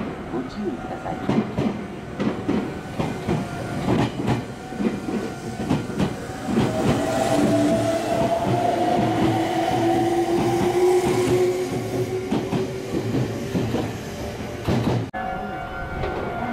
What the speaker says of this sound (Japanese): 通過電車です。 ご注意ください。